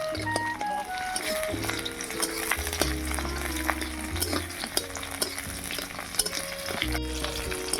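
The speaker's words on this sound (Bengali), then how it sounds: "রসুন আর পেঁয়াজ এবং কয়েকটা লঙ্কা দিয়ে ভেজে নেব" Chopped garlic, onion and a few chillies fry in oil in a wok, giving a dense, continuous sizzle and spatter under steady background music, with occasional stirring clatter.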